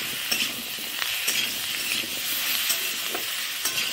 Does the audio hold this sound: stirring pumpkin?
yes